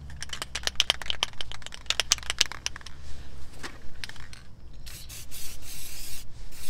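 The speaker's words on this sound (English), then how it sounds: "And now you want to put the grease where it's supposed to go." Grease sprayed from an aerosol can onto the brake parts of a 2016 Mercedes C63s during a brake pad change, a run of short hissing bursts up close, followed by longer spray blasts over low background hum.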